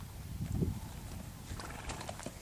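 A horse steps backward while being led in hand, giving a few soft hoof thuds and shuffles nearby amid a quiet outdoor background.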